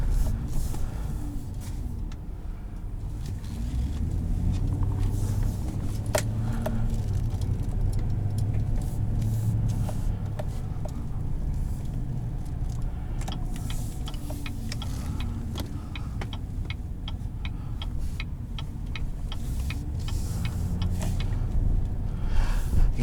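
Cabin of a 2019 GMC Sierra 2500HD pickup truck on the move: a steady low engine and road drone continues throughout, with occasional faint clicks and ticks inside the cab.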